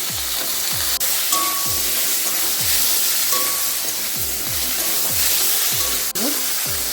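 Taro and vegetable stalks fry in a pan of hot oil for a Bengali fish curry, giving a steady, loud sizzle throughout with soft stirring scrapes and a couple of sharp utensil knocks.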